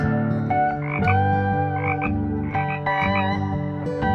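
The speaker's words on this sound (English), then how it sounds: "Cane toad." A cane toad gives a steady, loud, nearby trilling croak made of buzzy pulsed phrases repeated about once a second, with nothing else audible.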